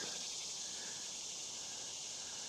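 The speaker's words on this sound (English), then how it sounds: "You can hear cicadas in the trees." A dense, steady high-pitched insect drone from cicadas in trees along a woodland trail, continuous and fairly loud throughout, with faint outdoor background underneath and no voices.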